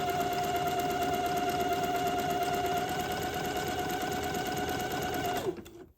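Sewing machine running a zigzag stitch to join lengths of lace, a steady rapid mechanical whir and chatter that runs loud and unbroken before stopping abruptly near the end.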